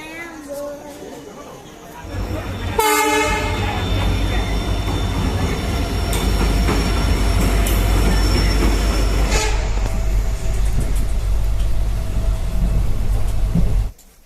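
A train arrives with a sharp horn blast, followed by a loud, continuous roll of wagons rumbling and clattering past close by for over ten seconds before cutting off. People talk over the noise.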